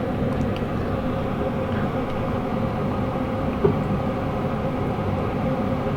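A Spirit of the Outback passenger train in Queensland creeps forward along a station platform, giving a steady, even low rumble with one brief clank partway through and no talking.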